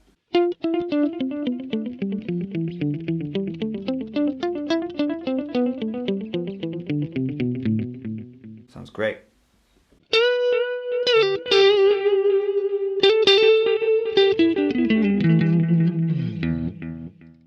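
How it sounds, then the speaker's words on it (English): Electric guitar through a VOX AC30 amPlug 2, notes ringing with repeating delay echoes and a gentle pulsing tremolo, loud and continuous, with a brief pause midway before a new phrase. "So there's the delay with the slight tremolo."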